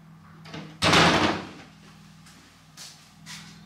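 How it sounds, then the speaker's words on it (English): A door closes in a home kitchen with a washing machine running, one solid thud and rattle up close, then a few softer knocks and clatters afterward. "And close that door."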